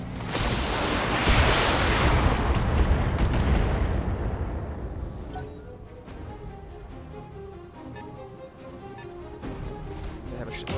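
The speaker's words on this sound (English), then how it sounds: "Firing all weapons." Heavy weapons fire from a BattleTech mech volley: a loud, dense roar of cannon and missile blasts for the first few seconds, then tapering into scattered lighter impacts and game sounds over a steady background.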